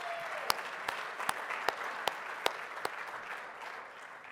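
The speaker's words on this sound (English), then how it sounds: "Let's give them a round of applause." An audience at a city's State of the City address applauds in a steady, moderately distant wash, with a few sharper individual claps standing out.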